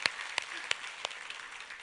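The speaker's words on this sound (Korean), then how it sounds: "우리 하나님께 감사와 영광의 박수를 드리겠습니다." Faint, scattered claps from a church congregation during a worship service, a handful of sharp separate hand claps spaced apart at low volume rather than full applause.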